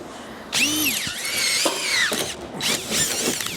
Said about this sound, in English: So I'm gonna drill the hole first.